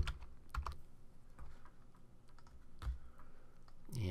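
Typing on a computer keyboard while entering a date into a Photoshop layout, a quiet run of key clicks in irregular bursts with a louder thump near the end.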